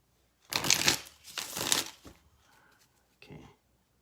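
A deck of tarot cards is shuffled by hand in two long bursts of riffling, then a few softer shuffles and a last short flutter. Close and clear, with no talk over it.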